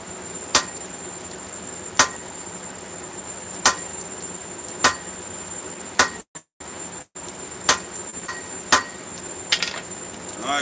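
A hammer strikes hot metal flat on an anvil while forging a wizard piece, sharp ringing blows spaced about a second or more apart, with a brief silent gap midway and a few quicker taps near the end.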